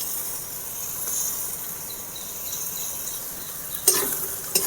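A paste of green chilli, garlic and ginger frying in a pan gives a soft, steady hiss, with a faint high whine and a brief scrape of stirring near the end.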